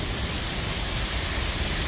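Heavy storm rain in Rome, New York pours down in a dense, steady roar, loud and constant with no pauses and no voices.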